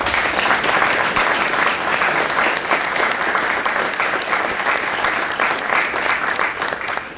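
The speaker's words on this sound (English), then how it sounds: "And let's give them a round of applause." Audience at an Academy of Finance graduation ceremony applauding for advisory board members, loud, steady and dense clapping sustained throughout without pause, close and filling the hall.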